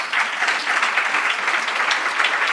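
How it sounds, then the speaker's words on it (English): Applause from the audience at a closing keynote event, a dense, steady wash of many hands clapping, loud and continuous throughout with no voices on top. "Can you please give them a warm hand of applause?"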